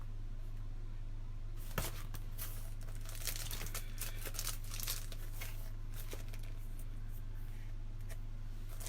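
Sheets of stickers are handled and peeled open in bursts of crinkling and rustling plastic, close and fairly quiet over a steady low hum.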